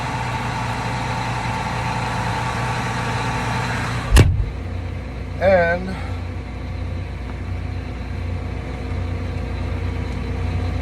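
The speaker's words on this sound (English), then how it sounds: "I leave the door open for a few minutes so I can listen to the engine" A farm tractor engine idles steadily throughout at a close, even level with the door open, broken by a sharp click and a brief squeaky sound partway through; a word is spoken briefly.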